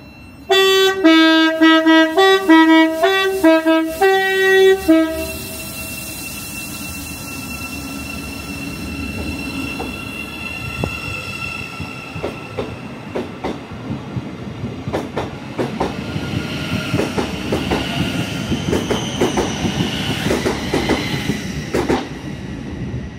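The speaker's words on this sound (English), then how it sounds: "that was some lovely tones for the driver from that Class 717" A Class 717 train sounds a rapid series of two-tone horn blasts for about five seconds, loud and close, then rumbles and clatters with squealing wheels as it pulls into a station, with no talk.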